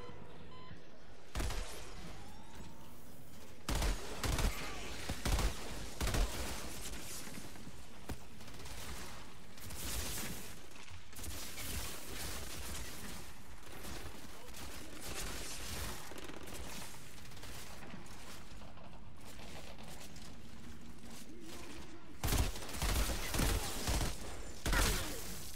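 Outriders game combat at a logging camp in Deadrock Pass, with dense, loud bursts of gunfire and impacts repeating throughout, including sniper shots, while a player talks over the action.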